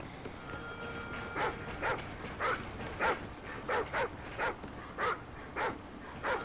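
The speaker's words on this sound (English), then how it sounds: "Our dog is not happy." A dog in the shooter game Call of Duty: Ghosts whimpers and yips repeatedly, about a dozen short, evenly spaced whines over a quiet low background, moderately close.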